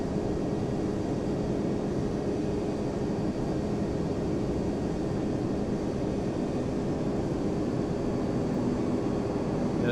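Steady broadband engine roar of a Boeing 767-300 airliner taxiing in Flight Simulator X, a constant, even jet hum holding unchanged throughout with no talk.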